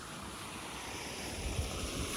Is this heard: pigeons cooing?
no